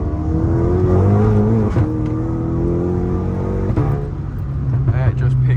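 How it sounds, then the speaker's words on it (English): Stage 3 tuned Golf MK6 GTI with a TSI engine pulling hard in second gear, its droning engine note climbing steadily in pitch with brief dips at shifts, heard from inside the car. "Give it a little second gear pull here."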